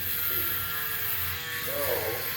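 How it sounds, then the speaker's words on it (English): A TPOB Go Shaver electric head shaver runs with a steady buzzing motor whine, close and continuous throughout, as a head is shaved bald. "Here is the Go Shaver"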